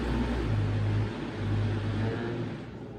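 Blender running while mixing homemade almond milk, a steady low motor whir with a slight dip and recovery in pitch, fairly quiet and heard alone.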